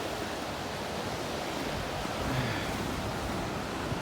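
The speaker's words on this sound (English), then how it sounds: "the waves flow in and out of there" Ocean waves surging in and out of a rock crack on an island shore make a steady, broadband wash of surf, loud and continuous, swelling slightly midway, with no voices.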